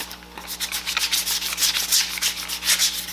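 A foam axe prop being sanded by hand with new 80-grit sandpaper: rapid, rhythmic, raspy scuffing strokes, close and fairly loud, with no voices.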